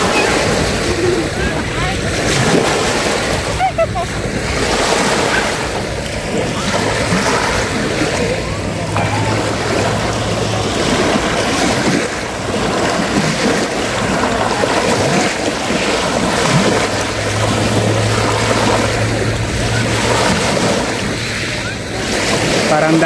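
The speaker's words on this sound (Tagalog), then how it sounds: "Parang dagat rin, umaalon." Surf rolling onto a Lake Huron beach at Kincardine on a cold day, a steady wash of waves under gusty wind buffeting the microphone, with people talking nearby throughout.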